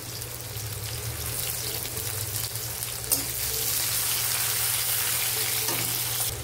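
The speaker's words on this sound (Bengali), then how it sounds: "দিয়ে ভালো করে পেঁয়াজটা ব্রাউন করে ভেজে নেব।" Chopped onion frying in a pan for a jackfruit curry, giving a dense, steady sizzle close up with a brief clink of a utensil midway.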